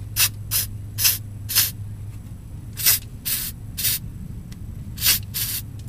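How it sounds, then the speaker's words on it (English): Short bursts of Deep Creep penetrant sprayed onto the fill plug of a Mazda Miata manual transmission, about eight quick hissing spritzes in irregular pairs over a low steady hum, close and fairly loud. "I'm going to go ahead and spray your penetrant."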